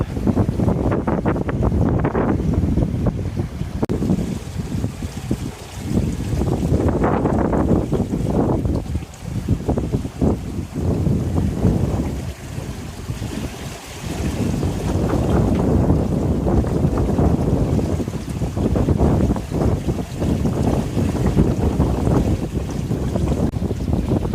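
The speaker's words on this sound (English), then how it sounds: "So it's a nice steady day with all of the sails up." Sailboat underway under full sail on a steady windy day, with strong, continuous wind buffeting and rushing water along the hull throughout, loud and close with no talking.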